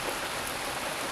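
Light rain falling steadily, a soft even hiss of drops with no distinct impacts, continuous and fairly quiet throughout.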